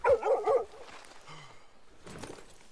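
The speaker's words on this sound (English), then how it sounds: "Dog speaking to us." A dog in Red Dead Redemption 2 gives a quick cluster of close, loud barks at the start, followed by softer whimpering sounds and low game background noise.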